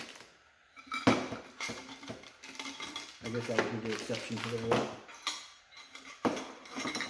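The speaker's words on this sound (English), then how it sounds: "Cutlery." Plastic cutlery from a bug-out bag rattles and clinks as it is handled, with scattered knocks and rustling under a man's quiet speech.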